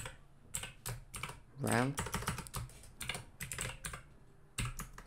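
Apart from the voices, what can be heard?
typing code on a computer keyboard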